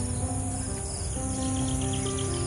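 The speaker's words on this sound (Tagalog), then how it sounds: "Mga huni ng ibon." Steady chorus of birds chirping and insects trilling outdoors in the morning beside a farm field, continuous and moderately loud with repeated high calls throughout.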